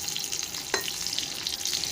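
Pointed gourd frying in a pan gives a constant, close hissing sizzle with one brief scrape of a utensil partway through.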